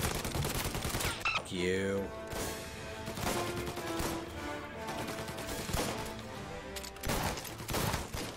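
Gunfire in Mafia: Definitive Edition, a dense, sustained fusillade of shots mixed with game music and effects, loud throughout, with a player shouting over it at one point.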